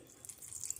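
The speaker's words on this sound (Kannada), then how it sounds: "ಈಗ ಇದಕ್ಕೆ ಸ್ವಲ್ಪ ನೀರು ಹಾಕ್ಕೊಂಡು" Water poured into a mixie jar of roasted chana dal chutney, a short soft splashing trickle that builds slightly toward the end, heard alone.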